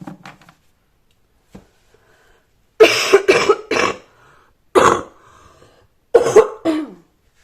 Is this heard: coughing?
yes